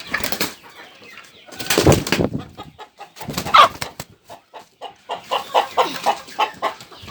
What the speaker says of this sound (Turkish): Bunlar tavuklar.